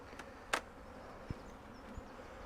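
Forage honeybees from a colony that was on a double brood box buzz faintly in the background, with a few soft close clicks and taps over the low, quiet hum.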